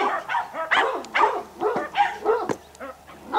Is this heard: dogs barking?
yes